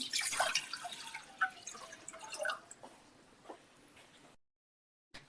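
A glass of water splashes and trickles into a pan on a lit stove for a few seconds, then tapers to a few drips before stopping.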